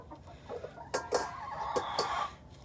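Chickens clucking in a coop during egg collection, a few short sharp clucks and squawks close by over quiet rustling.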